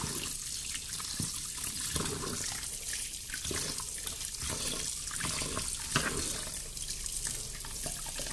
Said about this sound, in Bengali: তো আমি এখন চালগুলো ধুয়ে নেব ভালো করে।